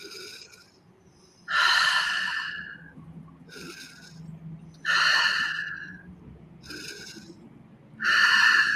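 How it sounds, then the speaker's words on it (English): Deep breathing demonstrated in three slow cycles, each a loud, airy rush of breath with long quieter pauses between, close and alone without speech. "I like to do deep breathing like"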